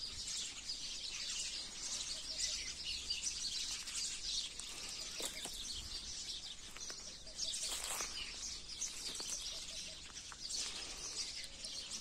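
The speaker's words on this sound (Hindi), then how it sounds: "ये देखिए कितने चिड़िया की आवाज़ है," Many small birds chirp and tweet among the low trees of a date palm orchard, a busy, fairly faint chorus of bright repeated calls that continues throughout, with occasional brief rustles.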